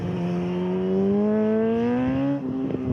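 BMW HP4 motorcycle engine revving hard on a race launch, a loud rising whine that climbs steadily in pitch, then drops suddenly near the end as it shifts.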